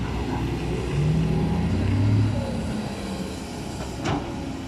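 A Kobelco SK200 Super YN12 excavator's diesel engine runs unloaded at a roadside earthmoving site, giving a steady mid-level drone with a brief rise in the middle and a short higher whine near the end.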